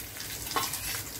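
Curry leaves and garlic sizzling in hot oil for lemon rice, a brief close, steady frying hiss with one sharper crackle midway.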